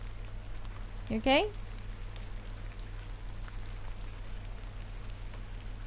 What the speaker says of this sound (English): it's raining more now